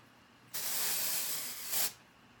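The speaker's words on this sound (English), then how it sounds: "Let me spray some in here, and we'll see how it works." A close aerosol can of hair product sprays in one steady hissing burst of over a second, swelling briefly louder just before it stops, with no talking.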